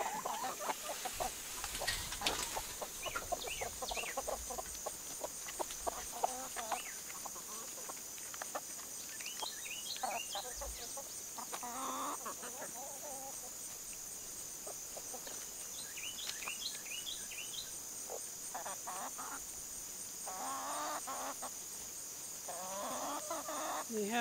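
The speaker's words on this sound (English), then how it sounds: "I'm ready to let the chickens out this morning" Farm chickens let out in the morning cluck and squawk in scattered bursts over a steady buzz of insects, near and fairly quiet, with some soft movement noises between calls.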